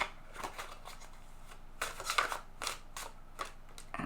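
Tarot cards being shuffled up close, a series of soft papery riffles and flicks in irregular bursts, quiet and intimate with no talking.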